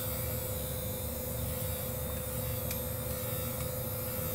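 A strong electric vibrating body massager runs without a break, giving a steady close mechanical hum with a constant tone and no talk over it.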